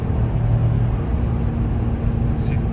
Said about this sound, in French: Et ça sonne. On entend le turbo aussi.